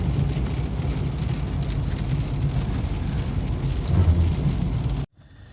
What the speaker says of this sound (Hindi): बारिश वाला सीन देख रहे हैं आप।